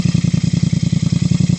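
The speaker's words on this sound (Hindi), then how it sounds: "एक बार मैं ना इसके थोड़ा आरपीएम बढ़ा के दिखा देता हूँ कि इसमें अभी कोई क्रैकल भी नहीं है।" A Royal Enfield GT 650 twin with a modified exhaust idles close and loud, a steady deep thumping pulse with a rapid even beat and no crackle, heard alone.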